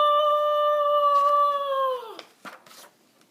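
A storyteller's voice imitates a lion's loud roar with one long, sustained, tonal cry that sinks in pitch at its end, followed by a few faint short breathy sounds.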